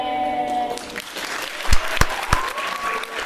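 A burst of applause from a small crowd, steady clapping with a few sharper, louder claps standing out.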